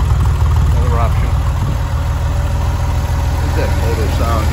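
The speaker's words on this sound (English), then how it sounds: "Look at that motor sound, you can tell me." A car engine with a stainless exhaust idles steadily, a low continuous rumble throughout with someone talking over it.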